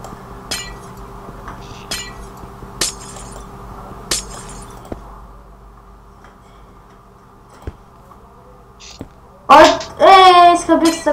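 Glass breaking in the Minecraft video game: several sharp, crisp clinks and shattering hits spaced a second or so apart, then a voice talks over the end.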